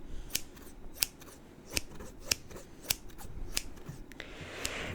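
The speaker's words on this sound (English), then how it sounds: "Scissor triggers are always the most fun triggers to play around with." Sharp scissor snips used as an ASMR trigger, a steady series of crisp close-up cuts about every half second, each a bright brief click against a quiet hiss, with no talking.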